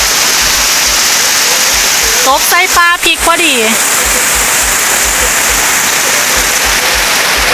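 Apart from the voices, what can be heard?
first rain of the year falling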